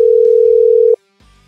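A steady, loud phone dial tone plays alone from a cellphone in Marvel's Spider-Man 2, held for about a second before cutting off abruptly, followed by faint background sound.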